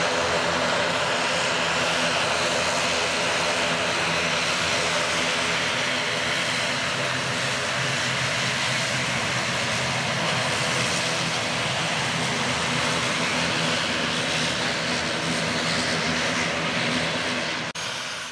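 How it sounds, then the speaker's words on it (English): A propeller airliner approaches Paro airport in Bhutan through the mountains, its engine roar loud and continuous throughout, fading slightly at the very end. "A quite dramatic approach by the aircraft through the mountains that was going to fly us out."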